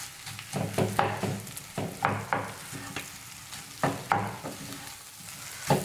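Tapioca egg masala being mixed in a pan with a spatula, giving repeated scraping and stirring strokes over a steady background sizzle, close and fairly loud, with no talking.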